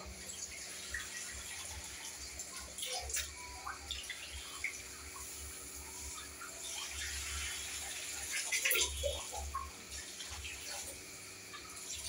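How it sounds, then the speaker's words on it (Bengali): Water is poured into a spice mixture in a cooking pan, a faint steady trickle and splash with scattered small clinks, running for several seconds. "মশলাটা জলটা দিয়ে দিই, ফুটিয়ে নিই।"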